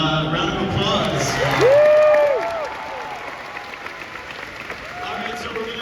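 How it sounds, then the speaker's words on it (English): Fan Expo Dallas crowd applauding and cheering at Hayden Christensen's panel, a loud burst of clapping that swells then fades, with voices and whoops heard over it. "Round of applause."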